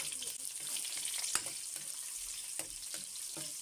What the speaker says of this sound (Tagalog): magigisa muna tayo ng bawang at sibuyas.